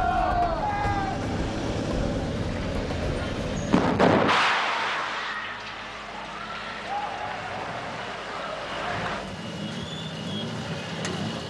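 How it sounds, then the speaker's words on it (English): A sudden loud film-set explosion set off with mortars bursts out amid outdoor rumble and wind, then a long rushing decay fades to quieter ambience. "So here we go, three cameras running on a big explosion."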